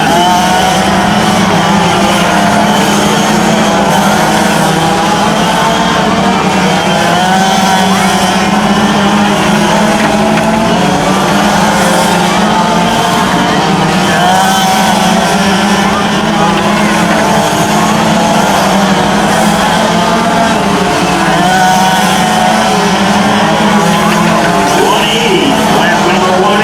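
Quarter scale race cars lap a track at Royal Oak, Michigan, their small engines droning and whining continuously over 26 seconds, layered and steady, while an announcer talks over the racing throughout.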